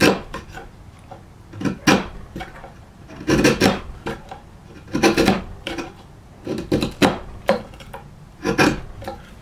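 A long bladed chisel pares a wood tenon in repeated rasping scrapes. Each stroke is a short, close, fairly loud grind, with brief pauses between them and no talk.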